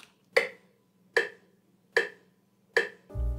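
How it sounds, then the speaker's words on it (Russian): A metronome clicks four evenly spaced, crisp ticks about a second apart, close and clear against near silence, before a deep bass beat kicks in at the very end. "Метроном — это вот такая вот штучка"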